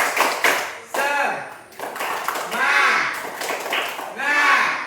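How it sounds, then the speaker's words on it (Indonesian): An audience performs the Indonesian tepuk semangat clapping chant: bursts of rhythmic group claps and taps alternate with loud voices chanting together, the pattern repeating several times close and lively. "Oke, kita tepuk semangat dulu ya. Tepuk semangat."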